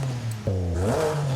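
A 2026 BMW M2 CS with a race intake and race exhaust revs in the Forza racing game, its engine note climbing sharply and then holding a raised, steady drone for about a second.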